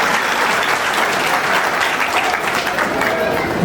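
Dense, steady applause from an audience at a family get-together of an SRP Group 7 community reunion in Nadiad, a continuous wash of many hands clapping close and loud for the full length with no pauses.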